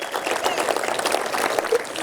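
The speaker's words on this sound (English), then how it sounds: "a big round of applause for Debbie" Applause at a fire and lifeguard appreciation dinner: a room of guests claps in a dense, continuous patter of sharp hand claps that stays moderately loud for the whole stretch.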